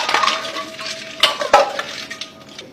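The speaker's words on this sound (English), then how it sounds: "Give a stir to the drink." A spoon stirs a glass of mohabbat ka sharbat holding chia seeds, dry fruits and watermelon cubes, with close clinks and light taps against the glass and a soft swish of liquid over a few seconds.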